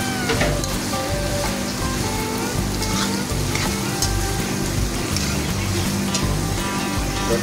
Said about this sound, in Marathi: कांदा चांगला आपल्याला हलवून घ्यायचा आहे जेणेकरून कढईला लागायला नको